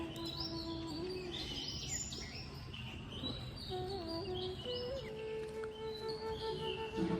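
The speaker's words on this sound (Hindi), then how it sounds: "चिड़िया चू चू बोल रही है।" Birds chirping at dawn along a rural riverside route, several overlapping tweets and short whistled calls at moderate distance over a soft background hum, with no talk.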